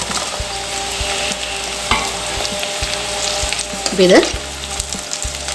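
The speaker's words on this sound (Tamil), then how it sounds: "முருங்கைக்காவும் பச்சை மிளகாவும் வெங்காயத்தை கூட லைட்டாக ஒரு 2 செகண்ட் கலந்து கொடுத்தா போதும்." Split drumsticks and halved green chilies sizzle as they are stirred into frying onions in a pan, a steady close hiss with a few scraping stirs and a brief louder clatter near the end, as part of a fish curry.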